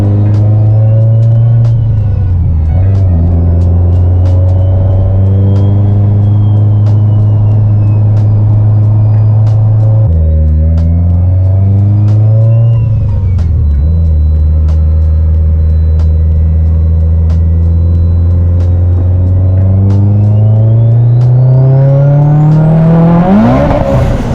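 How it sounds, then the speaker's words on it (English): Mitsubishi Evo with a new boost controller accelerating hard down a street, engine note climbing through gears with loud, continuous revving and gear-change dips, nearby and dominant throughout, ending in a high-pitched rising whine. "So let's go for a quick rip down the street and see how she is."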